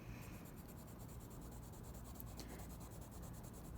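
Steady scratchy rubbing of colored pencil laid down in layers on paper, a continuous close strokes texture with a faint rhythmic pulse throughout, no talking.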